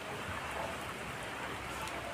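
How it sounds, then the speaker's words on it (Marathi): Steady rain falls in a broad, even hiss, fairly faint and constant, with no other sounds standing out. "पाऊस चालू आहे."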